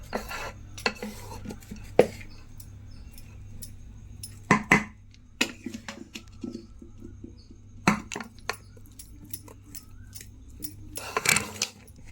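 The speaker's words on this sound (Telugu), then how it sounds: "తయారు చేసుకున్న రైస్లో మనం గుజ్జు తయారు చేసుకున్నాం కదా, ఇది వేసుకొని కలుపుకుందాం." Pulihora (tamarind rice) prasadam being mixed: tamarind paste stirred into cooked rice in a pot, with scattered spoon clinks and scrapes against the metal rim at irregular intervals, fairly close and quiet, no talking.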